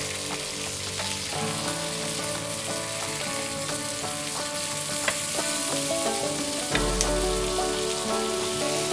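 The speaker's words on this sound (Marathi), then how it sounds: "आपला सरंगा दोन्ही बाजूने छान फ्राय झालेला आहे।" Black pomfret fish frying in a pan for about ten minutes, a loud continuous close sizzle and crackle with scattered pops, and no talking.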